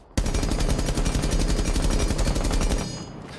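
Rapid automatic gunfire from a rifle fitted with an extended barrel in Rainbow Six Siege, a loud, steady burst of closely spaced shots lasting nearly three seconds before cutting off into a short echoing tail.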